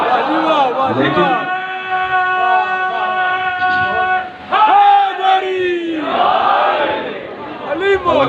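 A Muharram majlis crowd in Lahore chants religious slogans in unison, loud sustained drawn-out call-and-response shouts of many voices, near and filling the space.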